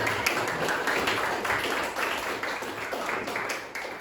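A school class applauds the quiz winners, steady soft clapping from many hands at a distance, fairly faint and continuous in a room.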